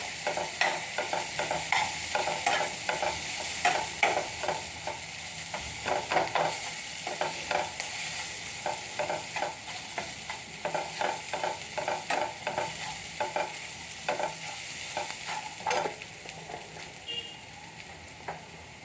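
Pea kachori filling sautéed in a pan, with repeated rhythmic scraping stirs over a continuous low sizzle, close and moderately loud.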